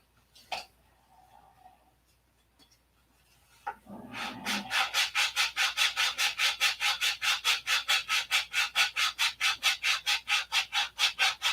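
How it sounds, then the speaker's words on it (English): Fiberglass-covered plywood cowl being sanded in steady, even back-and-forth swipes that grow loud and close after a few quiet seconds of small knocks. "I'm going to sand it a couple more swipes before I start glassing"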